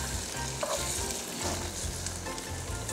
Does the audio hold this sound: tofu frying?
yes